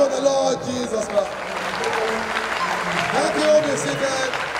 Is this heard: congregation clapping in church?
yes